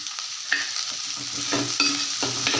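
Sliced onions with salt sauté in a pan for paneer butter masala: a steady sizzle carries repeated rhythmic spatula scrapes and taps against the pan, close and clear, with no talking.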